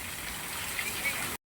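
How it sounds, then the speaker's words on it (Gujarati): Heavy rain pours in a steady, dense hiss with no pauses, loud and close, and cuts off abruptly at the end. "ફૂલ વરસાદ"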